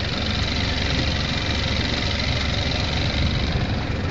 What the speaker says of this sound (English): It's got a 70 outboard Evinrude on it.